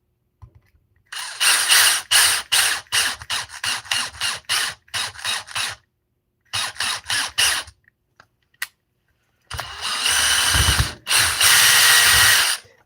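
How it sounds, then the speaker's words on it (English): A cordless screw gun drives screws during an upgrade on a Silverback RC car, sounding as a run of short ratcheting bursts, then a few more bursts after a pause, and a longer whirring run near the end, close and loud with no talk. "Where's my screw gun?"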